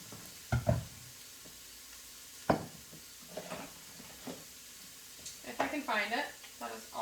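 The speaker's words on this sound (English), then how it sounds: "our onions are starting to saute very nicely, becoming a little more translucent" Onions sautéing in a pan give a soft background sizzle, broken by several sharp stirring knocks and scrapes of a utensil against the pan, with bursts of talk over the cooking.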